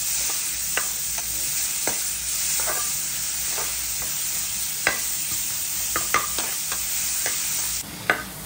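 Onion and garlic fry with salt in a pan, giving a continuous close sizzle broken by repeated clicks and scrapes of stirring, with no voice present.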